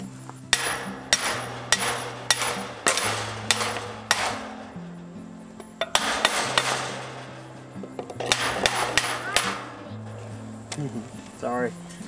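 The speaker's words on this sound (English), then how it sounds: "we'll just tap it with a hammer" Sharp metallic hammer taps on a metal gate hinge in irregular bursts, close and ringing, with voices talking in between.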